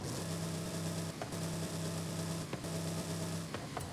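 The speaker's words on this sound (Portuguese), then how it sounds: "Motorzão a diesel tem um ronco bonito, hein?" A car's big diesel engine in the racing game Forza Horizon 5 rumbles steadily in a low, even drone, broken by two brief dips and clicks, with no talk.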